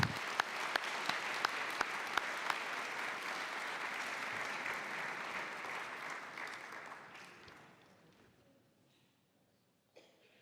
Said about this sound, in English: they deserve a great round of applause